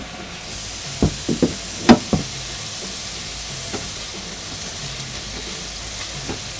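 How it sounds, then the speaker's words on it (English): Onions browning in a pan give a steady low sizzle, with a few sharp stirring knocks and clicks near the start and scattered ones later, and no voices. "we're not going to cook the onions a whole lot, just enough to brown them up a little bit"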